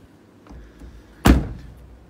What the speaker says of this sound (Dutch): Je houdt je vinger even tegen de deur greep aan en hij gaat automatisch op slot.